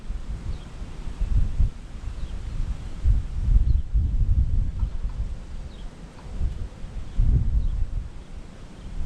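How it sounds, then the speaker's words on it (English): Wind gusts roughly against a microphone outdoors beside a truck camper, a steady low rumble that swells and eases in waves throughout, with no talking. "Waiting for the wind."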